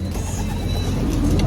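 Pigeons coo in a steady, close chorus over constant low background rumble, with no voices.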